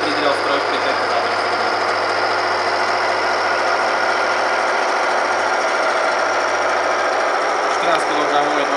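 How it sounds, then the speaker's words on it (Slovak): Electric motor on a Metabond Gold test rig, running under a doubled 14 kg load: a loud, steady mechanical drone with a rattling, jackhammer-like texture that holds unchanged for the whole stretch. "14 kg je dvojnásobné zaťaženie a motor stále pracuje bez akýchkoľvek problémov."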